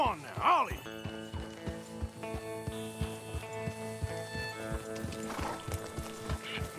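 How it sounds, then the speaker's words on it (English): Horses gallop in the video game Red Dead Redemption 2, their steady, rhythmic hoofbeats clopping close over a sustained musical backdrop while voices shout urgently. "Come on, horses!"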